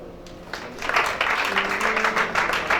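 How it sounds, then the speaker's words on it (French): Audience applause at a church conference in Libreville, Gabon, clapping that swells after a moment and continues steadily, fairly close, with a sustained tone from a sound system underneath. "Acclame chacun."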